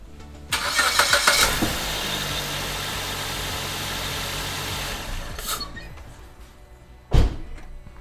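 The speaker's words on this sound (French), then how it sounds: "Donc mettre le moteur en route." A Suzuki S-Cross engine fitted with an E85 ethanol conversion box cranks and catches, then idles steadily for several seconds before a sharp thunk near the end.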